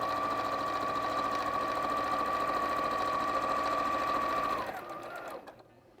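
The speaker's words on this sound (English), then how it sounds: "So we're going to stitch those together." A sewing machine stitching quilt pieces together runs in one fast, steady, close hum, then slows and stops near the end, leaving quiet room tone.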